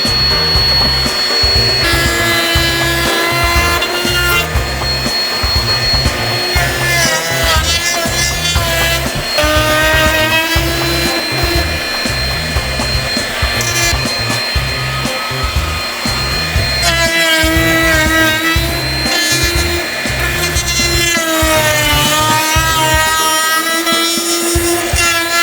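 Power sander working across a wooden cutting board, a loud, rough, pulsing whir with repeated strokes and shifting pitch throughout, no voices.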